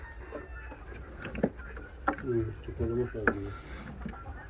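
Farm chickens clucking and squawking in a coop where hens sit on eggs, a few bursts of harsh calls rising over low background noise, with a voice speaking nearby.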